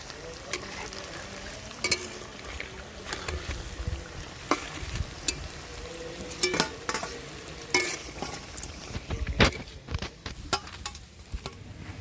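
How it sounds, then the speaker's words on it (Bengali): Malabar spinach (pui shak) leaf fritters frying in hot oil in a village kitchen, a dense continuous crackling sizzle with scattered clinks and scrapes of a utensil, close and without talk. "আমি আর একটু ছোটো ছোটো করে ভেজে নিচ্ছি"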